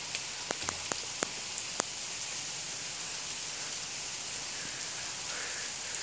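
Rain falls in a soft, even hiss, with a few sharp drip ticks scattered through the first couple of seconds and no voices.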